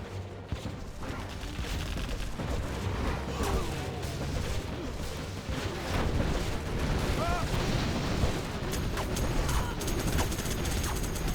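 A Chinook helicopter takes fire in the C&C Generals Zero Hour strategy game, amid dense, rattling bursts of gunfire and thudding artillery-like blasts that continue throughout, with commentary voices faintly underneath.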